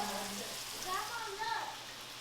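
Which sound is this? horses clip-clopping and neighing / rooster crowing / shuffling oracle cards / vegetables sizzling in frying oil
vegetables sizzling in frying oil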